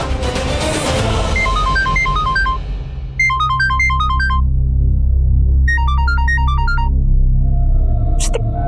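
A melodic phone ringtone plays in two bursts of chiming notes over a low rumbling background, with a pause between them.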